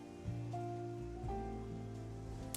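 Rain falling in the Final Fantasy XIV game world at Aloalo Island, a steady wash of patter under sustained tonal game music, moderately quiet and continuous throughout.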